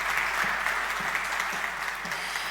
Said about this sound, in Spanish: Que se sienta aún más fuerte el aplauso para Karen Sagredo